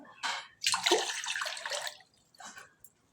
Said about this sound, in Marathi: आता पाणी घातलेलं आहे पातेल्यात